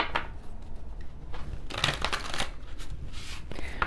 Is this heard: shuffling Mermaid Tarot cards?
yes